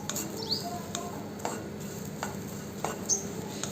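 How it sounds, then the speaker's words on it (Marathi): Chili pieces roast in a pan, a soft steady sizzle broken by periodic scraping knocks of a spatula as they are stirred, close but faint. "आपल्या ह्या मिरच्याचे तुकडे छान भाजून झालेले आहेत"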